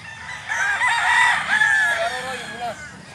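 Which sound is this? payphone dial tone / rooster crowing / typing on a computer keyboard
rooster crowing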